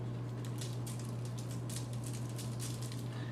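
Salt is sprinkled over a halibut fillet, coming through as soft, irregular pattering taps over a steady electrical hum and faint room hiss, with no talking.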